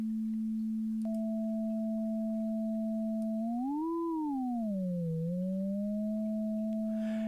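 A pure sine tone from Max/MSP for the second harmonic holds a steady low pitch; a second tone joins, both bend up then down together before settling, faint and alone.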